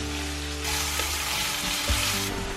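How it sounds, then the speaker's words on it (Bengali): Onions sizzle steadily in hot oil and ghee with whole garam masala, cumin, star anise and black peppercorns, a loud, close, continuous frying hiss with a few soft stirring knocks. "প্রথমে আমি এর মধ্যে পেঁয়াজ অ্যাড করে দিচ্ছি"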